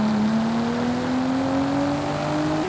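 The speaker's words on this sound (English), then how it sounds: "(1993) Nissan Skyline GTR V-Spec." A 1993 Nissan Skyline GTR V-Spec engine holds a loud, steady droning note that climbs slowly in pitch as it revs, then jumps briefly higher at the very end, with no voices.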